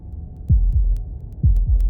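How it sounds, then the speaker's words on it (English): Heavy heartbeats from the game Slay the Princess throb in two double-beat pairs, deep and loud, over a low hum with no talk. "That was the sound of a heartbeat,"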